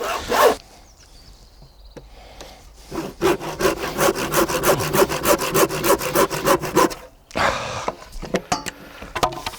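A wooden board for a raised planter is cut with a hand saw, giving a close run of fast rhythmic rasping strokes after a few knocks, then a brief pause and a final short burst of sawing.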